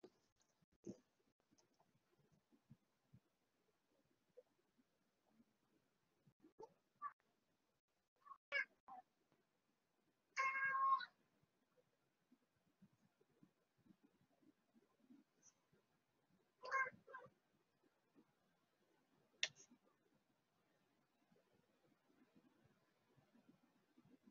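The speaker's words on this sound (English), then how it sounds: "My wish is that my cat shuts up right now." A house cat meows several times in a quiet room, brief cries spread out at intervals with near-silence between them.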